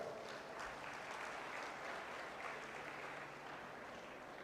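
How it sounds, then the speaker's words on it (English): Quiet, distant audience applause in a hall during a B.Tech university induction talk, a steady wash of clapping at low level with no voices over it. "clap for them"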